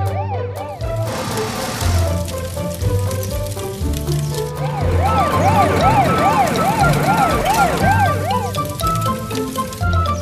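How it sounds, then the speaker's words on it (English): A cartoon fire truck's siren wails in a loud, repeating up-and-down warble that runs for several cycles over a low background music bed. "The fire truck's turning on its emergency lights and sirens."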